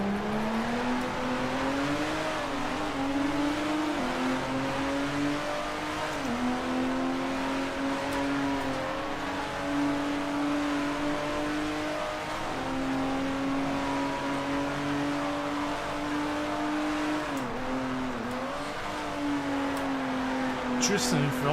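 A race car engine in Grand Prix Legends, a 1950s-60s style Formula 1 sim, drones loudly and continuously, pitch rising and dipping through gear changes and corners, with a voice speaking over it.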